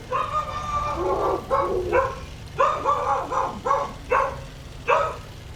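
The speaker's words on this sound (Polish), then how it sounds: "przestań szczekać" A dog barks repeatedly in short bursts, fairly close, during a World of Tanks match, over steady low game engine rumble, with a voice talking in between.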